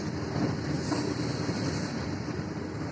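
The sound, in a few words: train passing a level crossing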